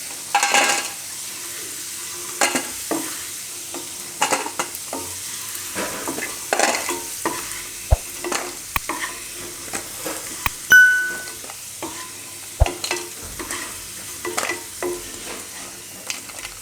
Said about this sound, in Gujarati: તો આને આપણે આ રીતે પકાવી લઈ દઈશું અળવીને.